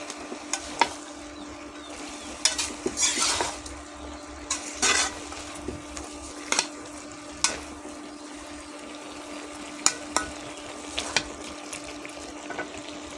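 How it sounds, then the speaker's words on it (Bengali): Spinach stirred and frying in a pan, with a steady low sizzle and scattered scraping strokes of the spoon at irregular intervals, close and moderately loud, no voices. "ভালো করে নেড়ে দেবো।"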